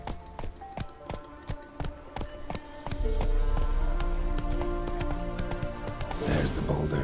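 Horse hooves clip-clopping in The Witcher 3: Wild Hunt, a steady rhythmic trot of sharp clops, joined midway by a rolling cart rumble and louder clatter, with no talk.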